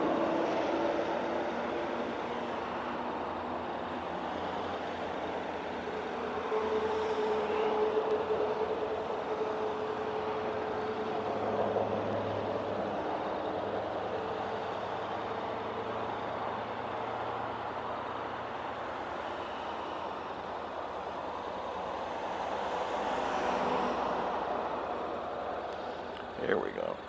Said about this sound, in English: There's a lot of traffic on this road.